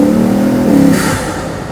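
Bugatti Veyron Vitesse engine accelerating hard, a loud close steady engine note climbing and surging, then a brief shift in tone as it pulls on without letup.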